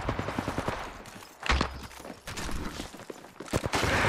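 Rapid bursts of gunfire in an Apex Legends match crack out in sharp clusters, with a heavy thump midway and more shots rattling near the end, loud and close throughout.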